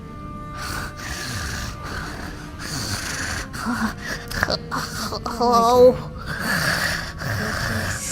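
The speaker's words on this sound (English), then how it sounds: "You can stop breathing now." Heavy, rasping breaths with gasps and snorts pushed into a vox device, uneven and close, with brief talk in between.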